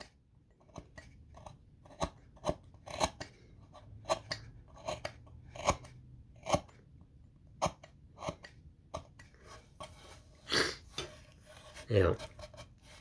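A small wooden bunny being hand-carved with a knife: irregular, close, quiet scraping and crisp cutting clicks scattered through, with a few longer rasping strokes near the end and no talking.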